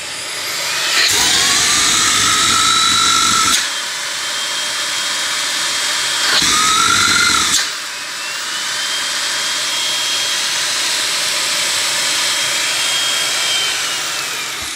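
An LG A9 Cordzero cordless vacuum cleaner whines loud and close with a high-pitched motor tone. It spins up and drops back between settings, then settles into a long steady run.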